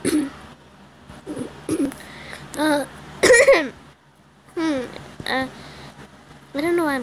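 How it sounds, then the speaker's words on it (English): A person coughs and clears their throat in a string of short, close, raspy bursts separated by brief pauses, loud against a quiet room. "I don't know why I'm coughing."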